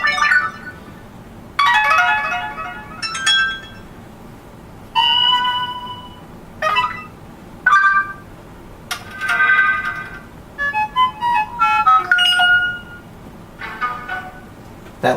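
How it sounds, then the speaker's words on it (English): Notification tones from a Samsung Moment SPH-M900 phone, a string of short separate chimes and melodic jingles played one after another with brief pauses between them, loud and clear. "Let's look at the notification tones."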